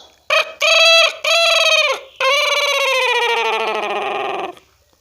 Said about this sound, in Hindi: अब देखो दोस्तों, अब उसका जोड़ा मुर्गा क्या बोलता है